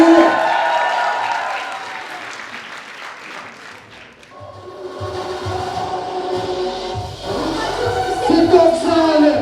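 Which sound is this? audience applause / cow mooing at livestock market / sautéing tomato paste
audience applause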